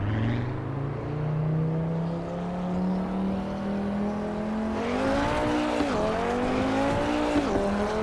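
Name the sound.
Audi RS3 Sportback engine in Assetto Corsa Evo video game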